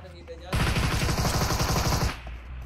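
Pistol fire in PUBG Mobile bursts out as a rapid, loud string of shots lasting about a second and a half, standing alone after a quiet start.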